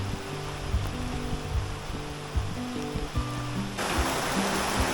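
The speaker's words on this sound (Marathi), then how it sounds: "गाइस फायनली आला ना पाऊस" First monsoon rain pouring down in a steady, dense hiss that swells louder toward the end, with low tonal hums underneath.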